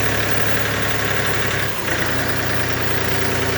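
A 24-horsepower engine, likely a small tractor with a 4+1 by 2 gearbox, idles with a steady, continuous low rumble and vibration close by, with a brief dip partway through and no voices.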